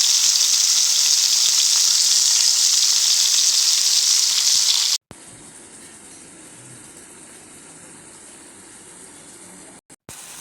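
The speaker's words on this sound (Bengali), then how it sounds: "বাটা মশলা দিয়ে দিলাম আলুর সাথে কষায় নেওয়ার জন্য।" Potatoes with ground spice paste are fried in a pan, first as a loud steady sizzle for about five seconds, then a sudden drop to a quieter, softer frying hiss that continues to the end.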